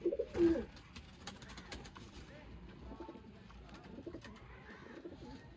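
A Sialkoti pigeon coos in a short burst of low, throaty notes near the start, then quieter rustling and faint bird sounds continue, with someone talking softly in the background.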